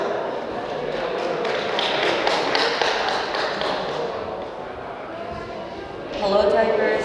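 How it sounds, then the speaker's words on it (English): A school audience applauds steadily for about six seconds at a student council election speech, the clapping swelling slightly at the end. "Please give him a round of applause."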